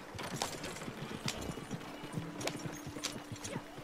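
Horses clip-clop steadily through a video game, their hooves knocking in a quick, uneven rhythm that carries on throughout over a low background hum.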